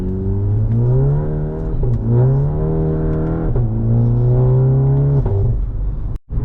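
A Volkswagen MK7.5 GLI fitted with an ECS dog bone insert accelerates hard from inside the cabin. The engine drone climbs steadily through several gear changes, then cuts off abruptly at the end, with no talking.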